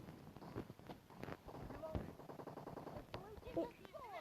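Gunfire in an online shooter video game, rapid bursts of shots mixed with footsteps and game effects, moderately loud under a voice talking excitedly over the action.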